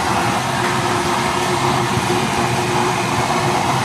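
A blue-flame stove burning used oil roars loud and close with a strong forced-air blast, a steady broadband rush and hum that never lets up.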